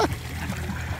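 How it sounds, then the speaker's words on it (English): Ducks splashing water near a person, giving a short burst of splatter at the start followed by low, steady watery sloshing and trickling. "Mr. Whoopins is getting wet. He's getting splashed."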